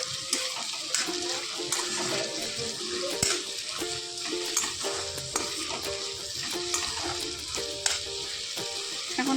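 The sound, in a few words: potatoes frying in oil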